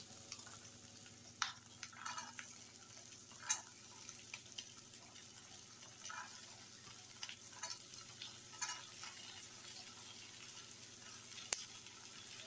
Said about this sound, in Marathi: कांदा चांगला लाल होईस्तोवर भाजायचा आहे आपल्याला. आता कांदा चांगला लाल होत आलेला आहे. आपण ह्यामध्ये शेंगदाणे टाकू.